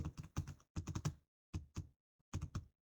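Typing on a computer keyboard during Excel data entry, close and quiet, with several quick bursts of key clicks separated by short pauses.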